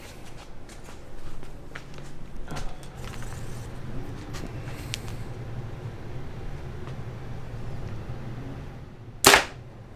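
A single sharp, loud impact near the end, like an arrow from a freshly tuned bow striking a target in an archery shop setting, following several seconds of quiet room noise.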